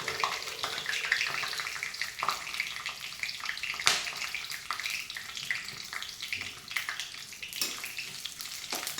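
Onions fry in oil with whole spices for a Kerala-style Malabar biryani, a continuous close sizzle and crackle broken by sharp stirring clatters and scrapes in the pan.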